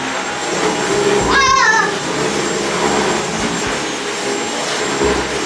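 Vacuum cleaner running steadily in a home, a continuous loud whooshing hum with a brief higher whine and a voice briefly over it.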